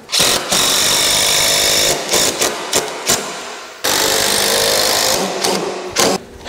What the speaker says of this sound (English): screw this in from the inside with 3-inch screws